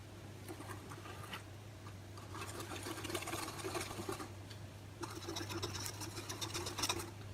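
A whisk beats cake batter for a savane cake in a bowl, making rapid, rhythmic ticking and clattering strokes at close range over a low steady hum, without any talk.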